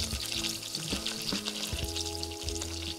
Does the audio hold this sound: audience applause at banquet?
no